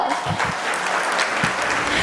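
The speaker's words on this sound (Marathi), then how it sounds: "जोरदार टाळ्या" Loud, dense applause from a corporate audience at a hosted engagement game, steady clapping throughout with faint crowd murmur underneath.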